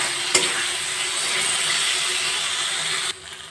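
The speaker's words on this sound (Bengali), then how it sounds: "মশলার সাথে গাঠি কচু আর আলু ভালো করে কষিয়ে নেব।" Fried taro and potatoes are stirred with spices in a pan for a Bengali curry, a continuous close sizzle with scraping of a spatula, opening with a sharp clack and ending abruptly as the frying fades.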